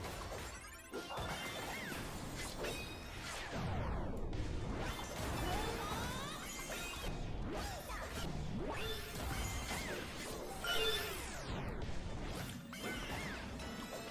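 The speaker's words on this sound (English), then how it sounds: "I love the effects when you kill somebody and they come flying at the screen and smack against the glass" Video game effects of defeated enemies flying at the screen and smacking against it: repeated whooshes, thwacks and crashing impacts over a busy, continuous game soundscape.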